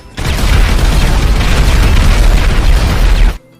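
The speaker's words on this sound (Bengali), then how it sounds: "এখন স্টিকি বম ব্লাস্ট করে দেই" A sticky bomb detonating in a video game, a loud, sustained roaring blast lasting about three seconds, with no voices.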